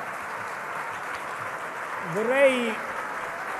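Applause from the audience at a Partito Democratico party assembly, a broad steady clapping wash that runs the whole time beneath a voice speaking in Italian, swelling slightly near the middle.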